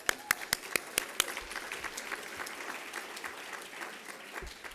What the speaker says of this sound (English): Can I have another round of applause for their work?